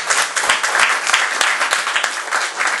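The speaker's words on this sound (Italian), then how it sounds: "C'è un applauso di benvenuto." An audience at an evening talk on the Unification of Italy gives welcoming applause, a loud, dense and continuous clapping that lasts throughout.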